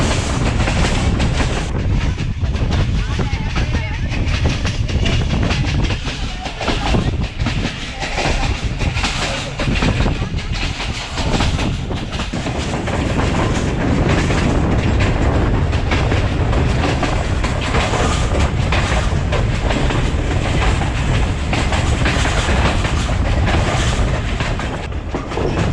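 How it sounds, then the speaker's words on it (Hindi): The Allama Iqbal Express runs on tracks between Sialkot and Lahore, heard from inside as a loud continuous rumble with rhythmic clickety-clack of wheels over rail joints and a steady wind-like roar throughout. "ट्रैक साउंड्स के रिदम भी चेंज हो जाता है।"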